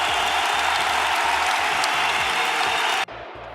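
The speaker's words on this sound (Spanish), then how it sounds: "Yo quiero que les dediquéis un aplauso irónico a todos esos que dicen que estamos divididos." Ironic applause from a Podemos political assembly crowd, a loud continuous roar of clapping that cuts off abruptly near the end, leaving near silence.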